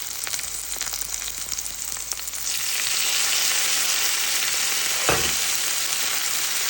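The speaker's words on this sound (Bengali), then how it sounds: "তেলে তারপরে এখন সিদ্ধ করা লাউয়ের খোসাগুলো আমি একটু তেলে ভেজে নিব।" Boiled bottle gourd peels fry in hot oil, a steady loud sizzle that swells and thickens partway through, with a brief clatter of stirring near the end.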